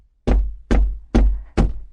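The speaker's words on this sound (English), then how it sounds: "the fisherman went to the priest's house and knocked on his door" Four firm knocks on a wooden door, evenly spaced and close, each a sharp thud with a short decay against silence.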